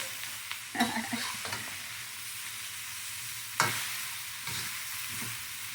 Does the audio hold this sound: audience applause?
no